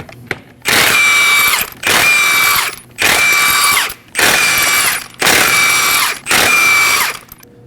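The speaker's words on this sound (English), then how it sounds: "Using a 21mm socket, go ahead and remove the lug nuts." Impact tool with a 21mm socket removing lug nuts from a 2017-2024 Nissan Armada, six loud, evenly spaced whirring bursts of about a second each with short gaps between, close up and alone.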